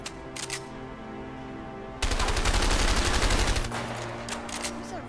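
Gunfire in the co-op video game A Way Out: a loud, dense burst of rapid automatic shots fills the middle of the moment, preceded and followed by quieter game ambience with a few scattered bursts.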